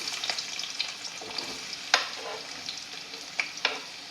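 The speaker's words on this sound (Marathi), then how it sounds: "आता तेल गरम झालेलं आहे. याच्यात 2 मोठे साईजचे कांदे घेतले आहे." Two large onions hit hot oil in a pan for Maharashtrian misal, sizzling steadily up close with a few sharp crackles and spatters standing out, and no voices.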